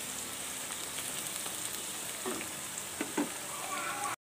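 Spices fry in oil for a Telangana fish curry, a close, soft, continuous sizzle with a few brief stirring scrapes toward the end.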